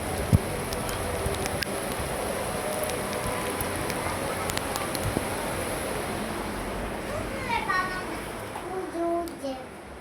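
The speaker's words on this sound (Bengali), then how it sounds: "বাহির হইতেছে ধুম বৃষ্টি" Heavy rain pours down outdoors in a steady, dense hiss that holds for the whole stretch, with a few sharper drips and knocks and faint voices nearby.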